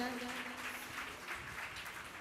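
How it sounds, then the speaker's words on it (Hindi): A crowd claps in sustained, dense applause for a couple of seconds, steady and fairly distant. "एक बार जोरदार तालियां बजाएं।"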